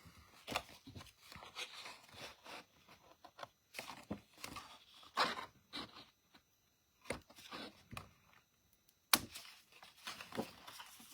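Scissors snipping through paper while a floral scrapbook picture is cut out, giving a quiet, irregular run of short, crisp cuts and crinkles close by, with brief pauses between bursts.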